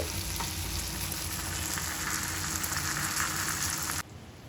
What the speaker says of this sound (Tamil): ஒரு பக்கம் மீன் வந்து நல்லா பொரிஞ்சிகிட்ருக்கு